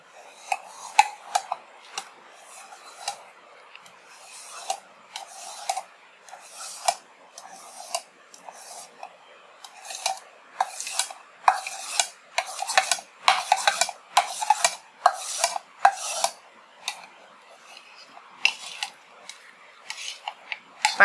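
Set rose-milk jelly being cut in a dish: a long series of quick, crisp scraping and clinking strokes of a utensil against the container, irregular but dense, close and fairly quiet, with no talking.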